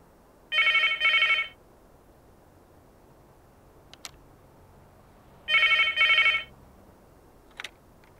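A landline telephone bell rings in two double-burst rings several seconds apart, loud and clear against a quiet room, with faint clicks between them.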